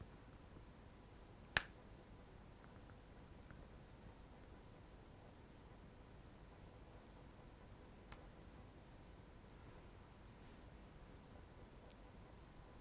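A hypnotist snaps his fingers once during a hypnosis session, a single sharp crack early on, then a fainter tick later over a quiet, hissy room.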